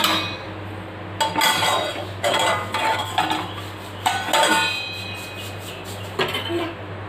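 A metal lid set on a pot of slow-cooking chinthamani chicken: several sharp metallic clanks and rattles spread over a few seconds, close and fairly loud, with short quiet gaps between them.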